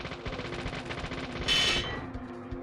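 Gunfire in the horror game Deadly Premonition, a steady run of rapid sharp shots with a brighter, louder burst midway, over a low game hum and choppy frame rate.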